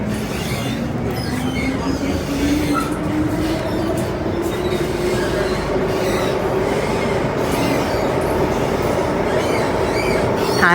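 MTR Island Line M-Train running in the Hong Kong subway between stations from Chai Wan toward Quarry Bay, with a loud, continuous rumble of wheels and motors, a rising motor whine and steady rail noise throughout.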